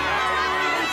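A cartoon town crowd cheering in an animated series, a thick, continuous roar of many voices mixed with shouts, loud and busy for its whole short length.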